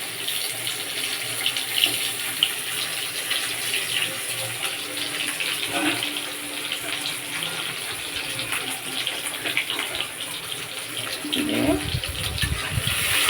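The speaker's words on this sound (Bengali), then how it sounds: "এরকম ছেড়ে দেবেন, ছেড়ে ভেজে নেব।" Pieces of snake gourd fry in hot oil with a steady, dense sizzle throughout, close and even, and a voice speaks faintly under it.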